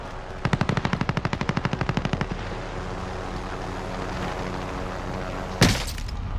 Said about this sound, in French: Ça c'est la MP5 de Cold War, je précise.